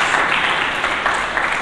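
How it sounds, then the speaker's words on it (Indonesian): Congregation applauding during a church service, a steady broadband patter of clapping that fills the whole short moment with no voice over it. "Mari kita berikan tepuk tangan bagi Yesus Kristus."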